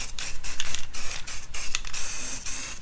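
A spray can of surface primer applies a second coat to parts stripped from a Cologne V6 engine, giving short repeated hissing bursts at close range with brief gaps between them and no talking.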